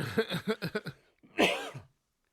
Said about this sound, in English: That cough had something in it.